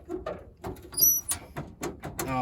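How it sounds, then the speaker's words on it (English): The old door of a 1926 Ford Model T creaks and squeaks as it swings open, a few short metallic squeals with clunks and handling noise, close by. "let's see how bad this door is. Well, it opens. It squeaks."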